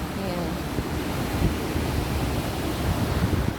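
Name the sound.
ocean waves and wind on the shore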